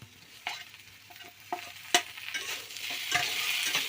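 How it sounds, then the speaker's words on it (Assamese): Tomato frying and being stirred in a pan while cooking raw banana: a steady soft sizzle with several sharp scraping and clacking stirs, close and alone, no talk. "ভালকৈ ভাজিব লাগিব, কাৰণ বিলাহীটো গলিব লাগিব।"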